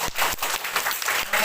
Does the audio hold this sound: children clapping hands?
yes